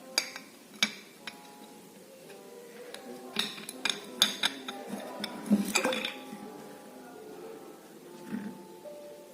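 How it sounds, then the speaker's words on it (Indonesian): A stone going into a glass measuring cylinder of water, with scattered clinks and taps of glass, some hollow knocks and a faint splash, fairly quiet and close, no voices. "kemudian kalian masukkan batunya"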